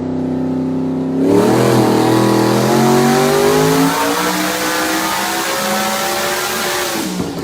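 A high-horsepower race car making over 2,000 rear-wheel horsepower revs hard on a dyno in an enclosed bay, a loud sustained roar rising in pitch after a brief quiet start and holding for several seconds alone.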